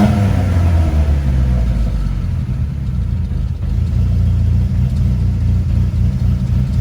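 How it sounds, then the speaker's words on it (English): A turbocharged 4G64 engine in a Mitsubishi Galant revs up loudly, then settles into a steady, close rumbling idle that holds for several seconds with no talking. "I'd rev it up to about 3 grand, it dipped down to 500"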